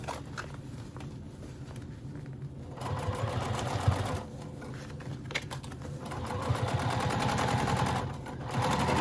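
A sewing machine runs in steady rapid bursts, stitching the seam of a lined Beachcomber pouch, with brief pauses and changes in speed between runs and no talking.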